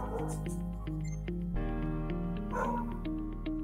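Muffled barking from dogs shut behind a closed door, a string of short yips and barks over a constant low hum, with no one talking.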